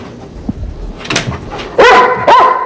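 A police detection dog searching for narcotics gives a few sharp, loud barks close by, two strong barks near the end following softer scuffling and a quieter yip.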